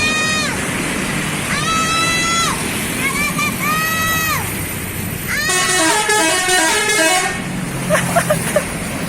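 Buses sounding telolet horns at a three-way junction by a terminal, several bright, melodic multi-tone horn phrases over steady road and engine noise, with people talking nearby.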